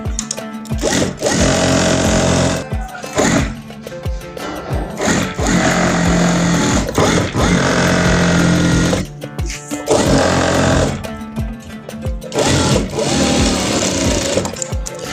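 A sewing machine stitches a fabric border onto a curtain in loud, steady runs, pausing briefly between bursts several times across the clip.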